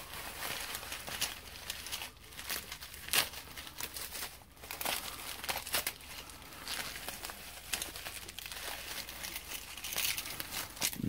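A taped mail bag being torn and wrestled open, giving crinkly plastic rustles, crackles and short ripping bursts, fairly quiet and close, with no talking.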